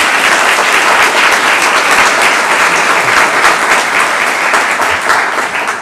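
Sustained audience applause at a university grant event, many hands clapping loudly and densely for several seconds without a break.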